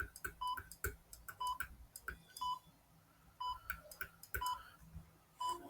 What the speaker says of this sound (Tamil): டைமர் ஆன் ஆயிடுச்சு